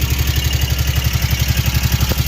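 An ATV engine runs close and loud after a coolant change, its rapid, even pulsing chug steady throughout the short stretch.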